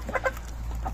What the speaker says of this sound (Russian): 3 или 4 петуха.